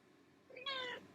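A house cat gives a single short meow, clear and moderately near, rising briefly then cut off, with only quiet room tone around it.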